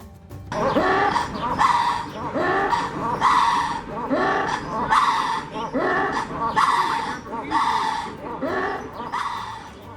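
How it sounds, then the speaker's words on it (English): Ruffed lemurs give repeated loud, harsh barking alarm calls in rhythmic bursts at a zoo's Madagascar exhibit, close and raucous, overlapping one another in a noisy chorus. "communications including barking alarm calls and territorial shrieks, wails, and howls"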